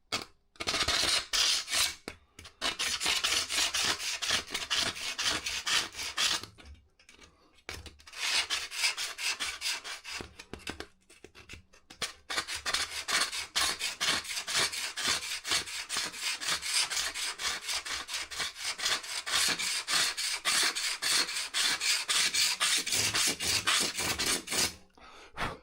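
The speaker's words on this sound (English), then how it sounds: "Kitchen knife sharpener." A kitchen knife blade is drawn repeatedly through a kitchen knife sharpener, giving long runs of fast, close, rasping strokes broken by a few short pauses, with no talking.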